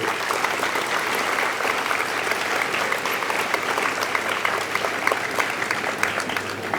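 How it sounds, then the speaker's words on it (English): An audience claps at a Singapore Sports School anniversary celebration and awards night, a sustained, even round of applause from a large crowd heard at moderate distance with no talking over it. "give them a big round of applause for all"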